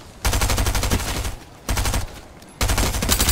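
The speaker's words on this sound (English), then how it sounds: "I got two SMGs" Rapid SMG fire in the Fortnite video game, three loud close bursts of fast automatic shots separated by brief pauses.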